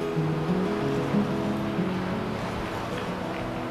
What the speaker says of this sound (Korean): 지금까지 계속 파도 소리가 엄청 강하게 들려요.